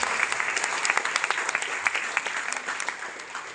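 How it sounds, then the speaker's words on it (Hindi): Loud, dense applause from a crowd at a public gathering, continuous clapping with distinct sharp peaks throughout, gradually easing toward the end. "एक बार जोरदार तालियां होनी चाहिए लोगों के लिए।"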